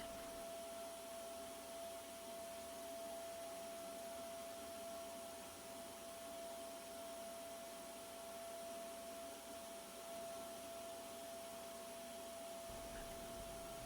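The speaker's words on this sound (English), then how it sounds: "so I can vacuum under here" A vacuum cleaner runs steadily throughout with a loud, constant motor whine and broadband roar, dropping off slightly near the very end.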